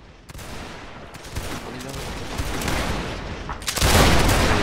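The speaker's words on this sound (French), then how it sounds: "feu à volonté quand vous êtes en position" Musket volley fire from a video game line battle: scattered shots crackle through the first seconds, then a loud, close volley bursts out near the end.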